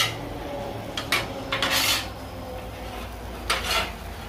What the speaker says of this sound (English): We'll keep it turning a little bit until those omelets start cooking a little bit better.